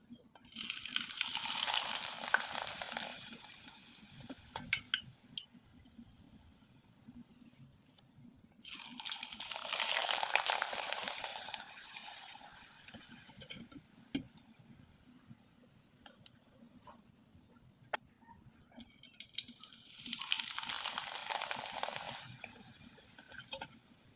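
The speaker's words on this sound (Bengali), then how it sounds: "আমি আপনাদের কয়েকটা পিঠা ভেজে দেখিয়ে দিচ্ছি।" Rice-flour syringe pitha frying in hot oil, three long bursts of bright hissing sizzle that swell as batter hits the oil and then fade, with quieter bubbling in between.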